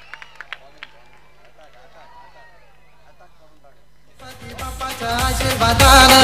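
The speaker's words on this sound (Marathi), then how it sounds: "करण लहानेची बॉलिंग आवडली असेल तर त्याच्यासाठी एकदा जोरदार टाळ्या." A short burst of clapping and crowd noise swells loudly after a quiet stretch of faint voices, applauding a bowler at a village cricket tournament match in Kasgaon.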